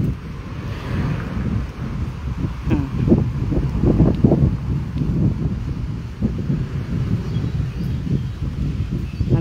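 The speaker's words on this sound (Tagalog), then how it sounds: "Lakas ng hangin." Strong wind in an outdoor park, a loud, steady roar buffeting the microphone throughout with rumbling gusts that swell and ease, no voices.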